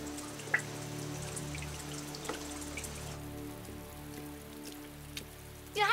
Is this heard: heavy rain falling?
yes